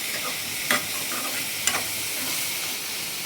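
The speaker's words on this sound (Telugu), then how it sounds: "వాటర్ ఇంకి వరకు మష్రూమ్ వేయించుకోవాలండి" Mushrooms sizzle in a pan with a drop of oil as they fry until their water cooks off, a steady close hiss broken by two sharp stirring scrapes.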